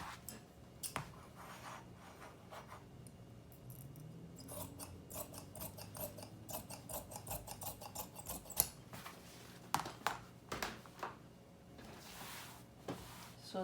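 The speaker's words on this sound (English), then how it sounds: "I'm just going to cut this out." Scissors snip repeatedly through fabric while cutting out a trumpet maxi skirt, giving close, crisp clicks and crunches in an irregular rhythm over soft rustling of the cloth.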